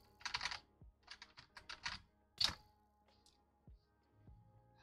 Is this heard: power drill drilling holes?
no